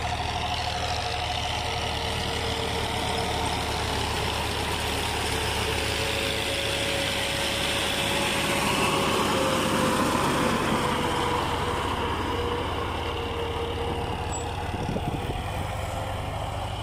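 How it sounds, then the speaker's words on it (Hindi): A 1995 Fiat 480 tractor engine runs steadily at close range while another tractor drives behind it, producing a continuous low chugging drone with a slight swell partway through. "पिछे दूसरा ट्रैक्टर भी जा रहा है"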